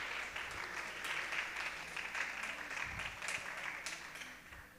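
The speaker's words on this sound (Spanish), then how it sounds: "Un aplauso, por favor," Steady applause from a conference audience at a water forum, many hands clapping together at moderate distance, sustained evenly with a few low thumps beneath.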